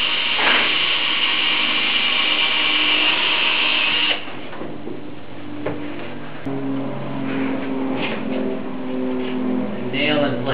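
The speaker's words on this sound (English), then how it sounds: "And we pre-drill for some nails at each end." A power drill whines loudly for a few seconds while pre-drilling nail holes in greenhouse roof sections, then cuts out, followed by quieter tool and handling noises with faint clattering.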